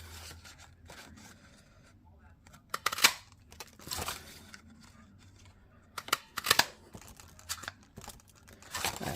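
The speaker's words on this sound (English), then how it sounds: "this leaf punch. So I think we'll cut a few of these out." Paper being cut with a handheld leaf punch, a few sharp close crunching snaps and crinkles spaced several seconds apart against a quiet room.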